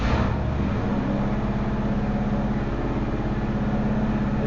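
A 350 Chevy V8 with a Quadrajet carburetor, ProMaxx heads and a Summit camshaft runs on a dyno at a high idle, a steady loud rumbling drone that stays even throughout.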